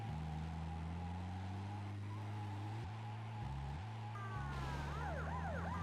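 A police siren in GTA Vice City Stories wails in rising and falling sweeps over a loud, steady car engine drone that shifts pitch with gear changes, with no talk.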